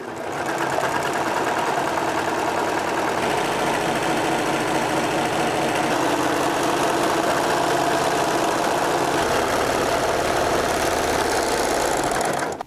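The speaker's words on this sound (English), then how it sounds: "Now let's go ahead and serge away." A serger sewing machine runs steadily, stitching a rolled hem along fabric with a fast, continuous mechanical whir and rattle that holds loud and close for the whole stretch, with no talking.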